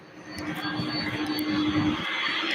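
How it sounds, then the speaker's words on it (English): A UPS jet airliner holds on the runway at Louisville airport, its engines giving a steady, fairly distant roar with a low hum beneath. "now it's holding on the runway. UPS flight 1072 to Newark."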